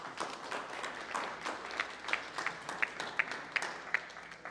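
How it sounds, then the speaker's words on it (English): An audience at a 1 Million Cups business gathering in Brownsville, Texas, applauds after a presentation, with dense, steady clapping throughout and a few sharper, louder claps standing out near the end. "Let's give it an applause again, guys."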